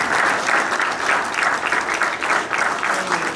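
Audience applause fills a hall at a police hero award ceremony, a dense, steady clapping that runs loud and unbroken from start to finish.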